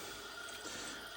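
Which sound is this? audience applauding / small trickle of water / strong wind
small trickle of water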